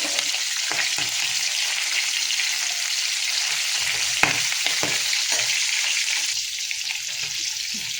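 Bhakur fish heads fry in hot oil, giving a steady loud hiss of sizzling with scattered sharp pops and crackles throughout, with no voices.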